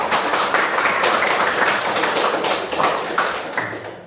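Students in a classroom clapping together, a brisk, dense patter of many hands that stays fairly loud and close throughout before tapering off at the end.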